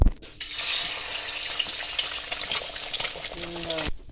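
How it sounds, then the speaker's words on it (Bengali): An egg fries in hot oil in a home kitchen, giving a steady, close hiss and sizzle that runs for several seconds before cutting off abruptly. "ডিমটাকে ভাজার জন্য একটু তেল দেওয়া হলো।"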